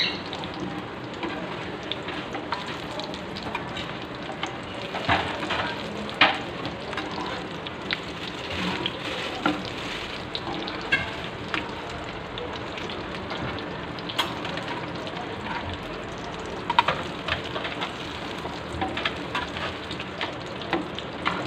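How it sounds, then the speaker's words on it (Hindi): Beef shami kababs fry in oil over medium heat, giving a continuous dense crackling sizzle with scattered pops, steady throughout with no talk. "और ये मीडियम आंच पर फ्राई हो रहे हैं।"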